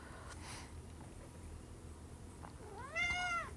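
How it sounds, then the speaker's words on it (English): Several cats meow in a quiet room during a craft session. Faint calls come early, then a clearer, louder rising meow arrives near the end. "These cats are very talkative right now."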